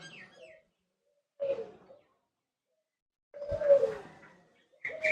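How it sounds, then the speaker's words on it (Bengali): Fantail pigeons at a fancy poultry farmers' gathering in Tangail, Bangladesh, give several short, soft coos separated by brief silences, close by and without talk. "এইগুলা হচ্ছে ফ্যান্টেল কবুতর লক্ষা"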